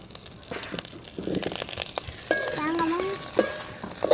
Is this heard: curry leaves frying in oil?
yes